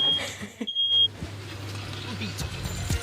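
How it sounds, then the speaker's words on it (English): A smoke alarm in a home kitchen shrills with a sharp high beep that breaks off briefly and resumes, while people talk over it. "Can you do something about the alarm, please?"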